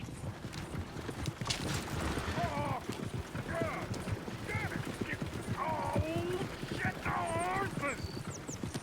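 Horses clip-clop and neigh repeatedly in Red Dead Redemption 2, with busy hoofbeats under scattered whinnies and people talking over the commotion.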